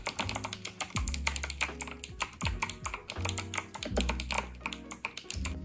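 Quick, uneven keystrokes rattle on a cute retro Nintendo-style keyboard at a gaming desk, close and crisp, with brief pauses between bursts of typing.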